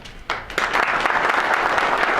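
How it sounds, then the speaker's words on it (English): Audience at a PGA section annual golf association meeting claps, starting with a few hands and quickly swelling into steady, fairly loud applause that carries on to the end. "We just have a clap for you."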